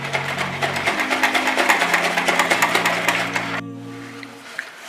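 Cream is whipped with an electric beater for mango ice cream, a fast rhythmic whirring clatter of beaters against the bowl that runs for a few seconds and then stops abruptly, leaving near silence.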